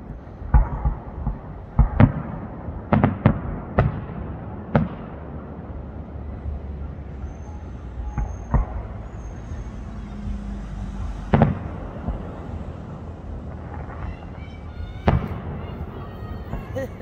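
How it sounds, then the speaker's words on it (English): Fireworks at a nighttime Christmas parade in Rutherford College, North Carolina: a series of sharp booming bursts at irregular intervals, some in quick pairs, with crackle between them and faint crowd voices in the background. "Christmas parade tonight in Rutherford College. And these are the fireworks."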